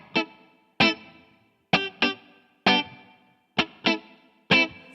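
Fender Stratocaster electric guitar on its middle pickup, bright and slightly driven, playing short rhythmic chord stabs, about eight sharp strums in a choppy pattern with quick decays and gaps between, clear and close with no voice.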